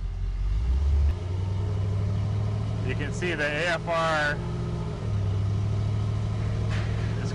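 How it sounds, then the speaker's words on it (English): A car running on a chassis dyno, its engine holding a steady low rumble while it rolls into a different load condition, with someone talking over the noise. "I'm gonna go to a different load condition by just rolling the car on the dyno"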